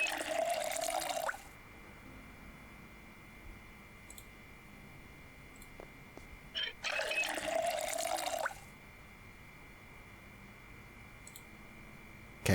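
Water fills saucepans in the video game Project Zomboid, two distinct bursts of splashing running-water sound, each about one and a half seconds long, separated by quiet with a faint click.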